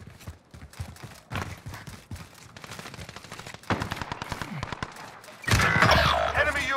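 Gunfire in the Warzone battle royale shooter: scattered shots and bursts, some near and some distant, building to a loud, dense volley toward the end.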